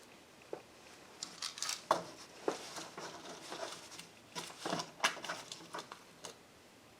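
Scissors snipping material while making a Christmas ornament, a series of sharp, irregular close clicks and cuts spread across the moment, with small rustles between them and no talking.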